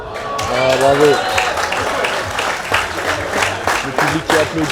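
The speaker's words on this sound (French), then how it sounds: "Le public qui applaudit." A padel match crowd breaks into loud applause and cheering that swells, then thins into scattered clapping, with a commentator's voice running over it.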